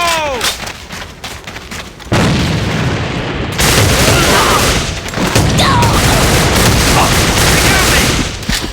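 A grenade blast in the shooter game Alliance of Valiant Arms, a loud booming burst that rolls into sustained rumbling gunfire and explosion noise for several seconds, dense and close.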